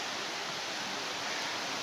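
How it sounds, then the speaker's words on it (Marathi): The Ulhas river near the Ambernath temple flows with an even, faint rush of water, a soft steady wash with no distinct splashes or voices. "ही उल्हास नदी"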